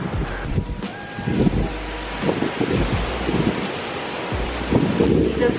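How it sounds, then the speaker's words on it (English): Strong wind blows outdoors under a stormy, darkening sky, a steady broadband roar and buffeting on the microphone with gusty swells throughout, while a person talks briefly. "It's so windy."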